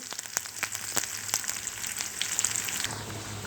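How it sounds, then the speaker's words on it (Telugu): Crushed garlic cloves and curry leaves crackle in hot tempering oil with a soft, steady sizzle and scattered sharp pops, heard alone. "దంచి పెట్టుకున్నటువంటి కచ్చా కచ్చాగా వెల్లుల్లి రొబ్బలు వేసుకున్నాం అలాగే కొంచెం కరివేపాకు కూడా వేసుకున్నాం"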